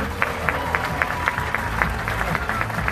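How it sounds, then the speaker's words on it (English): An audience at the Miss Universe 2017 preliminary competition applauds the judges, with sharp claps falling in a steady, regular beat over a bed of crowd noise and talk. "Let's give another round of applause for our judges."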